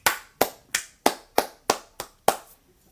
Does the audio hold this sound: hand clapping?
yes